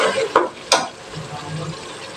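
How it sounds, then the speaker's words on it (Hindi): Mutton trotter masala being stirred and fried in ghee with a spoon, with two sharp metallic scrapes early on and then a steady, close sizzle. "घी ऊपर आने के बाद भी मैं मजीद इसको 1 से 2 मिनट इसी तरह ही चमचा चलाते हुए बुनाई करूंगी"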